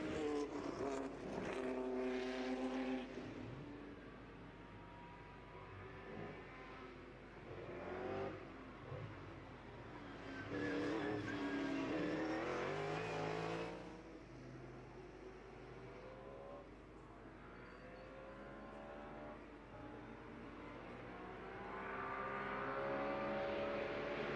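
Historic race cars accelerate at the Le Mans Classic, engines rising and falling as they pass at moderate distance, several loud surges over a continuous backdrop of track noise.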